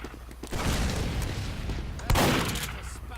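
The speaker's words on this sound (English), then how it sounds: "I also got a shotgun you can use" Shotgun blasts in the Team Fortress 2 video game, two loud booming shots about a second and a half apart over a dense bed of game noise.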